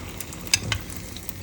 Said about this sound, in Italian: e mo andiamo a friggere il carciofo